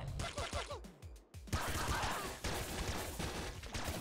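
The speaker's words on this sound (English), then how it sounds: "We've got the chop gun." Rapid, heavy weapon fire from the chop gun in the Nuclear Throne video game, a dense burst of blasts and impacts that continues loudly for several seconds with a short lull early on.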